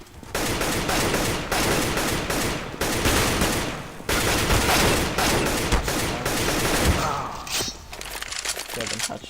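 Rapid bursts of gunfire from a CS:GO match played for headshots, loud and nearly continuous with brief gaps, ending in a sharper crack and a short ringing tail.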